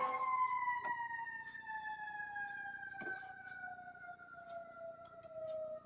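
Emergency vehicle sirens sound faintly from outside, a long steadily falling wail with harmonics, accompanied by scattered soft clicks and a low background hum.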